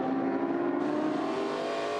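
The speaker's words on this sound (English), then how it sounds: "And now Kasulki under brakes at turn 6. Puts the big Falcon down the inside and makes the pass" A V8 Ford XB Falcon touring race car brakes and passes at a circuit corner, a steady loud engine drone with a slight shift in pitch partway through, no talking.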